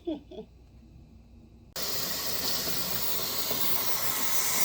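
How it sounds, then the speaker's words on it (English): A T-Fal 22-quart pressure canner processing potatoes releases steam in a loud, steady hiss that starts abruptly partway through and holds to the end, after a few faint clinks. "when the canner starts releasing its steam"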